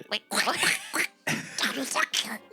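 A voice imitates Donald Duck, producing a string of raspy, nasal quacking bursts, four or five separate squawks in quick succession, close and fairly loud.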